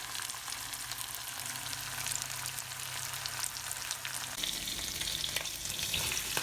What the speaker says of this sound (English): So now the onions are in there as well. I'm going to let them fry for a minute